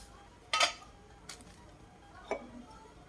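An egg fried without oil on a banana leaf is set onto a plate, giving a sharp clatter of dish contact followed by two fainter knocks, close and quiet, with no talking.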